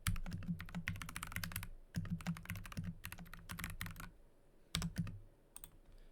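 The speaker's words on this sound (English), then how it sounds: "many of you probably already know what I'm about to type" Rapid bursts of computer keyboard typing, clicking keys in quick runs with short pauses between them, close and fairly quiet, with no voices.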